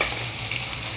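Cumin, onion paste and ginger-garlic paste sizzling in a pan as they are stirred, a steady close frying hiss with faint scraping, heard alone.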